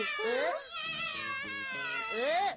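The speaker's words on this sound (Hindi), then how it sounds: "बच्चे टार्जन टार्जन खेल रहे हैं, पर वो बिल्लियों की तरह क्यों रो रहे हैं?" Cartoon characters cry like cats, drawn-out wavering meows that rise and fall, with a brief nasal yowl at the start and end, loud and close with no other sound behind.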